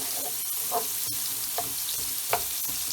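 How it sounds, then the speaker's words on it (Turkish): Chopped onion sautéing in hot oil in a pan while a spinach and mince dish is being made, with a steady close sizzle and a few brief stirring scrapes. There is no talking. "Onu yaklaşık 5-6 dakika güzelce pembeleşene kadar kavuralım acele etmeden."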